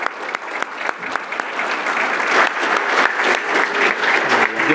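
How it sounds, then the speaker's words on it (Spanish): Loud, close applause from a conference audience welcomes a panel at a hydrogen industry event in Chile. Irregular individual claps build into a dense, steady clapping that continues through the clip. "con un fuerte aplauso los recibimos a todos ellos"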